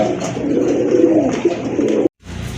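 Two Lark hen pigeons coo in low, rolling calls close by, a steady murmuring that cuts off briefly near the end before resuming.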